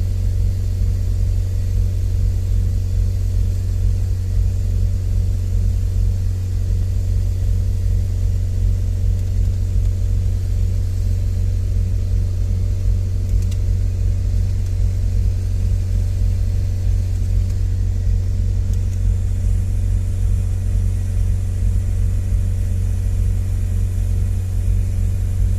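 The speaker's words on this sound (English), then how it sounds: "Car is still revving." A Volvo V50 engine held at raised revs during a forced DPF regeneration, a loud, steady, droning hum with a faint regular pulse that keeps going for the whole stretch, with no talk.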